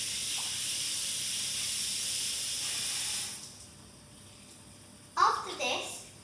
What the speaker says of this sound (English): I'm just gonna go and wash my hands because I do not want to catch the disease